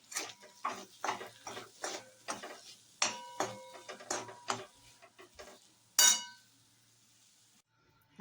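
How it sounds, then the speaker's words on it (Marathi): A spoon repeatedly scrapes and clinks against a pan while stirring matar karanji pea filling after sugar is added, rhythmic close metallic taps with a louder knock near the end, then quiet, with no talk. "आणि 1 चमचा साखर घालायची आहे आणि चांगलं हलवून घ्यायचं आहे"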